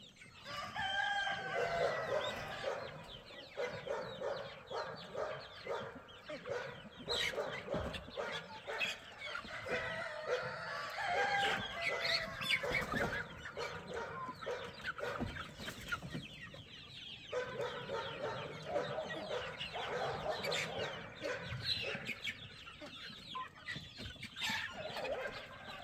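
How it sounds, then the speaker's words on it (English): Ayam Cemani roosters on a homestead crow repeatedly amid busy clucking and other fowl calls, a dense, continuous barnyard chorus lasting nearly half a minute at moderate distance without speech. "one of our Ayam Cemani roosters"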